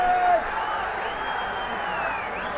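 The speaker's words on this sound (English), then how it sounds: "you can hear the crowd roar" A stadium crowd at a Nepal vs UAE cricket final roars after a boundary, a steady broad wash of distant cheering that holds for a couple of seconds, with a brief whistle-like tone at the start.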